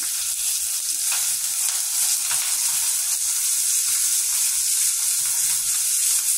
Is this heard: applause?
no